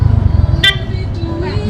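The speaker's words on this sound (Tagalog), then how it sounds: "Ang lakas ng busina. Nakagugulat no?" A vehicle horn blasts in a short loud toot on a busy street beside a market, standing out sharply over an idling engine rumble and street noise, followed by a fainter second beep.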